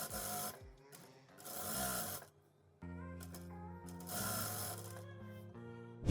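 A sewing machine hems the folded fabric of a dress, running in loud mechanical bursts with pauses between, its rattling stitch motor close and unaccompanied by talk.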